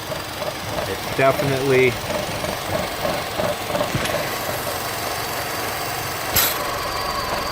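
A Chevy Cruze engine idling rough with a suspected PCV valve fault, a steady close mechanical chatter and low rumble running throughout, with brief speech and a few knocks over it.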